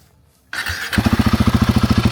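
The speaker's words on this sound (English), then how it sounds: "And now time to start the bike." A Royal Enfield Guerrilla 450 motorcycle engine starts after brief quiet, with a starter whirr rising into a steady, loud idle that throbs in an even, rapid pulse, close by and with no talk.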